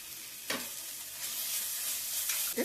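Potato and carrot curry frying in a pan, a continuous soft sizzle with occasional spatula scrapes and stirring knocks, close and fairly quiet.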